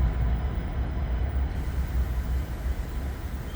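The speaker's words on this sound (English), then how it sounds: "here's the train coming from the other direction" An REM light-rail train passes from the opposite direction, heard from inside a moving train at night. A loud, steady rumbling rush with a broad roar, and no voices.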